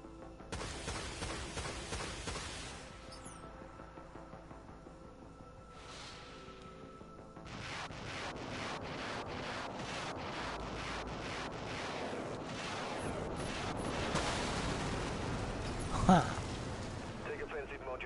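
Spaceship weapon modules fire at targets in the Dreadnought video game, a quick run of sharp blasts landing in a steady rhythm over a dense, rumbling background that swells louder toward the end.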